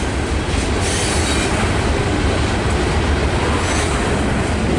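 An AC4400 locomotive with a steel bell and its train roll past in a rail yard, a loud, steady rumble of wheels with squealing and a rhythmic clack, close by.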